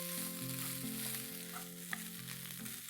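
Boiled potatoes for a masala dosa filling sizzle and fry steadily in a pan, a soft continuous crackle beneath louder background music.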